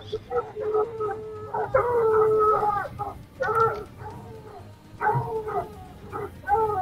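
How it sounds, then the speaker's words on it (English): Several dogs bay and howl in long, wavering, overlapping tones, pausing and starting again in repeated waves at moderate volume. "You can start to hear the sounds of crying and baying dogs."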